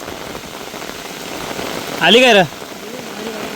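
Heavy rain pours steadily over a farm and forest near a river, a broad wash of hiss throughout, while a voice briefly speaks over it in the middle.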